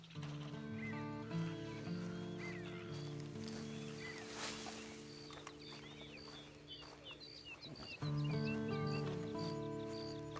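A horse in the Red Dead Redemption 2 video game, with soft clip-clop hooves and a faint whinny beneath steady in-game musical tones and bird calls, quiet throughout with a louder swell near the end.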